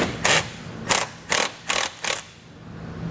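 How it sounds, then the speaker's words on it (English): A 13 mm wrench clicks on a bolt head while tightening it during a Draw-Tite Max-Frame trailer hitch install on a 2021 Chrysler: five short, evenly spaced ratcheting bursts, close and fairly quiet, with no talking. "grab a 13 millimeter wrench, try to get on the head of the bolt"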